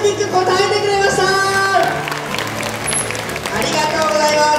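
Audience clapping and cheering at an aquarium dolphin show, with a broad steady wash of applause filling the whole stretch while a voice speaks over it.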